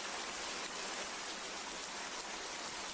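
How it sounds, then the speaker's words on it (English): Warm rain pouring down steadily, a dense unbroken hiss of drops falling on surfaces, loud and even from start to finish with no voices. "But it's a warm rain."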